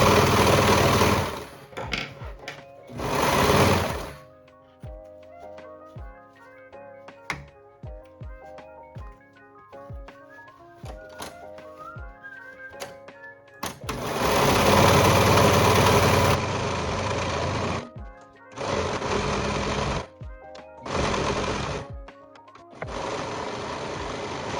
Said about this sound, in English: I'm going to be finishing mine with my serger to avoid fraying